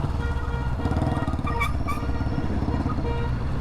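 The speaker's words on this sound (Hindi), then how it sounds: "भागता हुआ बुलेट आ गया।" A Royal Enfield Bullet motorcycle riding past on a city street, its engine a loud, steady low thump that fills the whole stretch up close, with faint traffic noise and a brief tonal horn-like sound in the middle.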